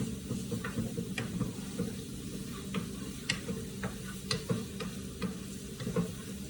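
Mushrooms and fresh vegetables sautéing in a pan for zucchini canoes, a soft steady sizzle broken by sharp clicks and scrapes of a utensil stirring at irregular intervals, close and without talk.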